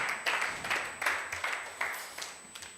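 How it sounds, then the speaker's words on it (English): An audience claps in irregular bursts at a business expo, several short rounds of close clapping rising and fading with no voices over them. "Please clap."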